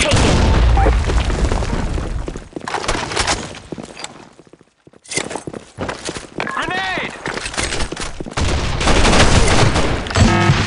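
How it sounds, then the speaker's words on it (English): Loud grenade blasts and dense gunfire in a capture-the-flag online shooter match, with booming explosions, rattling bursts and a brief lull midway before the firing resumes at full intensity. "Grenade!"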